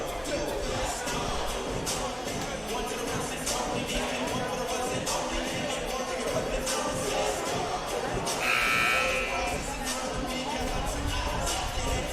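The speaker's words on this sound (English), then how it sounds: "Buzzer sounds, time to meet back on the court." A buzzer sounds briefly at a NAIA men's college basketball game between Wayland Baptist and SAGU, a short harsh tone rising over steady crowd noise and arena chatter in a large gym.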